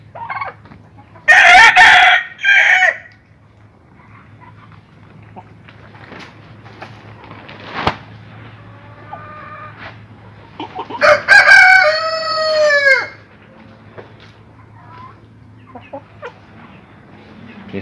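Chickens cluck and call nearby, with a rooster's loud crow standing out twice against a quiet barnyard hum.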